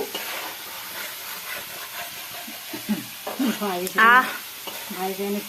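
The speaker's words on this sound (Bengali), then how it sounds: "আর এদিকে চলছে মশলা কষা।" Spices stir-frying in a pan for chicken kosha sizzle and hiss steadily, with scraping stirs and clinks of the utensil against the pan, while people talk over the cooking.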